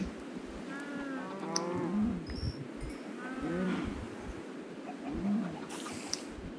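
Cows in a video game give three drawn-out moos spaced a few seconds apart over a steady ambient background, with a faint coo-like call mixed in.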